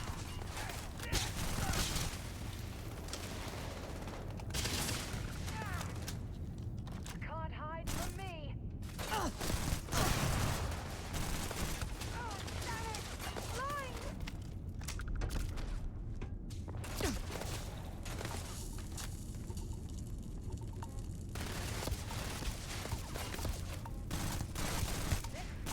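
Bursts of rifle gunfire from the video game Starfield rattle in rapid volleys across a busy, dense game soundscape. Scattered mechanical clicks and whooshes come between the shots, and a voice talks in places.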